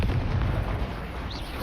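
An Incendio fire spell bursts in Hogwarts Legacy, a loud whooshing blast that rumbles and roars briefly before easing into a steady fiery hiss.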